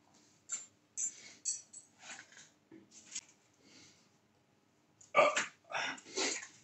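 A string of short bursts in quick succession, then a louder cluster near the end, all close and without speech, heard as burps during a YouTube challenge.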